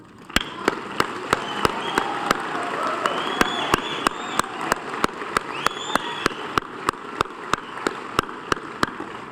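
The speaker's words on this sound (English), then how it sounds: "I think you should applaud yourself for this turnout" Audience at a community meeting about the Ashby highrise, held at Temple Emmanuel, applauding in a steady mid-level patter, with a sharp regular ticking repeating through it about every third of a second.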